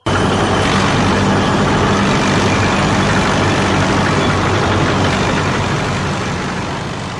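Engine rumble for a toy steel tank vehicle, a loud, steady, dense growl that starts abruptly and holds constant for several seconds, alone without talk.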